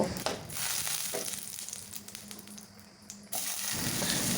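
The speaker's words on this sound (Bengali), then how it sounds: "তেলটা ভালো করে গরম হয়ে যাওয়ার পর 2টা শুকনো মরিচ আর 1/2 চামচ পরিমাণ গোটা জিরা ফোড়ন দিয়ে দেব" Two dried red chillies and half a spoon of whole cumin seeds crackle in hot oil, a steady close sizzle with brief sharp pops that dips quietly near the end before swelling again.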